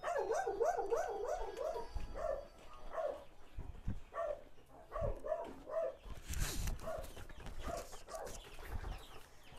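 A dog barks near a small dog that has just given birth in an isolated mountain-top village, with repeated nearby barks mixed with clucking chickens in the background.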